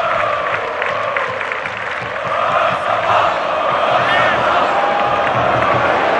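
São Paulo supporters roar in the stadium during the 2008 Copa Libertadores quarter-final against Fluminense. The loud, continuous crowd noise swells slightly partway through and holds steady to the end.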